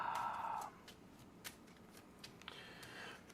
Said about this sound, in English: Shuffling the encounter deck because I did technically search it.